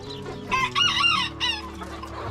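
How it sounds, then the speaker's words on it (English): A new rooster in a farmhouse chicken coop gives a few close, loud clucking calls in short bursts, with brief pauses between them. "This is our new rooster."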